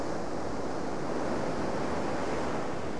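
Ocean surf rolls in a steady, dense wash of broadband noise with no distinct breaks, loud and continuous throughout.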